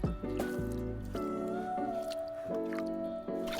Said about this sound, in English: So I'm going to go ahead and rinse everything out again.